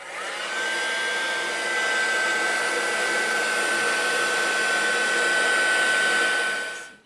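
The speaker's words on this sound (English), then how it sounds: "So now what I want to do is just get my heat tool and just dry this off" Heat tool blowing hot air to dry ink on a handmade Valentine card, a loud continuous fan whine with a steady high tone that runs unbroken for several seconds before cutting off.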